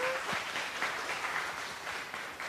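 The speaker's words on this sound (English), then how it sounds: "Could we please give them a round of applause?" Audience applauding two student teams on stage at a university math fair, a steady wash of clapping from a modest crowd that holds at an even level throughout.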